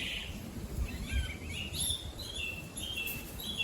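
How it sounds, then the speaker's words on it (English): A couple of birds trade calls outdoors during a countryside walk, short bright chirps alternating against steady wind and ambient noise, fairly faint and mid-distance. "There's a proper roast battle going on here between a couple of birds."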